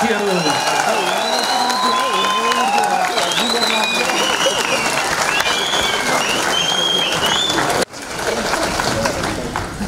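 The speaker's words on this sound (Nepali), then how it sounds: "एकचोटि जोरदार तालीद्वारा अनुमोदन गरौँ साथीहरू।" Vigorous applause from a crowd at a Nepali political rally, dense clapping mixed with shouting voices and whistles. It runs strong and continuous, cutting off briefly near the end before resuming.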